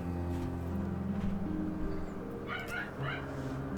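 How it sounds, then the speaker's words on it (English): A dog barks in the fantasy game Final Fantasy XIV, a few short yips heard over a continuous game music bed. "Bark, bark, bark."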